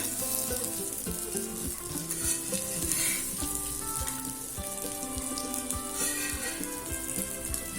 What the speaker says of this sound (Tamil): அடிப்பிடிக்காம இருக்க அப்பப்ப கிளறி விட்டுக்கிட்டே இருங்க.